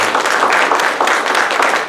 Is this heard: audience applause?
yes